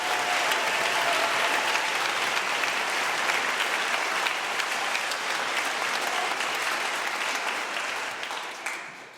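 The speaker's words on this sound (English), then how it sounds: "Let's give her another round of applause for Blake Allen" Sustained applause fills a hall at a high school honor band concert, a large crowd clapping loud and steady for most of the stretch before it thins and fades near the end.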